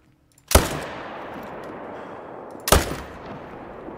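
Two loud rifle shots at a moose in a hunting video game, about two seconds apart, each a sharp crack followed by a long, rolling echo.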